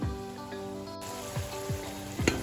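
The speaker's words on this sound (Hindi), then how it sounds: "अब इसको मसाले में शामिल करके और फिर आपको भून के तो दिखाते हैं।" Lamb shank meat frying in masala in a pan, a steady close sizzle with a few louder stirring scrapes and spatters, no voices.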